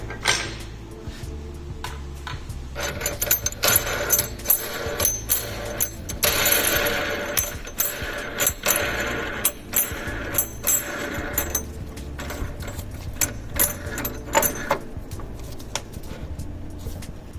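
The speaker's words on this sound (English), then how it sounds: "let's attach the RBB.1000 to your workbench with the clamps provided" Clamps fastening an RBB.1000 edge trimmer to a workbench produce repeated metallic clanks, ratcheting and tool knocks, close and fairly loud, with irregular sharp hits scattered across a steady workshop hum.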